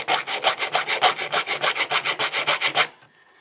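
Round Soviet needle file rasping across a mini chainsaw chain, about fifteen quick even strokes in a steady rhythm, close and loud, then stopping into quiet.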